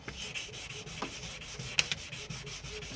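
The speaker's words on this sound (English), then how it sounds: "we'll continue to spray as we start sanding" Steady wet rubbing and scraping of 600-grit abrasive paper against a Ford Figo's hard plastic headlight, sprayed with water, close up, with a couple of brief sharper scuffs, no voices.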